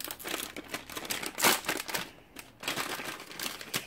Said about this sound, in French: Pas de pitié pour l'emballage.